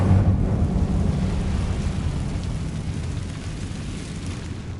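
An Incendio fire spell is cast in Hogwarts Legacy, bursting as a loud, deep rumbling blast at the start that slowly fades into a low roar.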